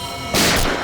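A short, loud burst of gunshots fired inside a room in a TV crime drama, an abrupt broadband blast lasting under half a second, with no voices over it.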